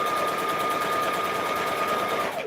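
Sewing machine stitching a fabric scrunchie, running at a fast even clatter for a couple of seconds before stopping abruptly, close and loud with no voices.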